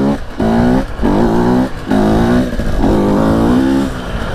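A 2018 Husqvarna 250 motorcycle engine revs hard in its aggressive map on a private road, loud and close, rising and falling in four or five repeated throttle bursts with no talk.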